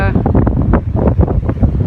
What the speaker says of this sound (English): look at how windy it is